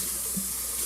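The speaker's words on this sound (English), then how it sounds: "dump out the water" Water pours out of a lettuce-filled salad spinner basket as it is dumped into a sink, a brief, steady splashing rush heard close up.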